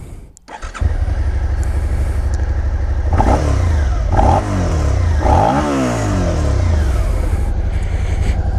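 A Suzuki SV650A motorcycle with stock exhaust idles loudly and revs up in several rising bursts, a deep throaty exhaust note close by with no talking.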